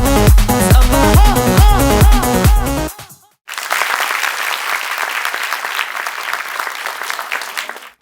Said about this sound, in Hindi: एक बार जोरदार तालियां once again for Team Parvarish